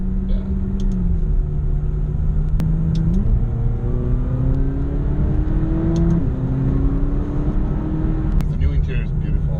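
A McLaren 570GT moves through slow traffic during Monterey Car Week, its engine a steady, smooth low drone close by. The pitch steps up and down with gear changes, and a faint whir sits over the engine.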